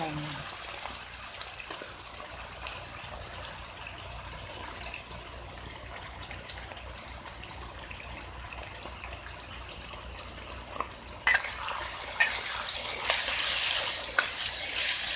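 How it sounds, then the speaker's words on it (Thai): Chicken pieces are frying in a generous amount of oil for Thai stir-fried chicken with basil, giving a broad steady sizzling hiss that grows louder and spits near the end, under a woman's speech. "เราจะใส่ไก่ไปก่อนนะคะใส่น้ำมันเยอะหน่อยนะ"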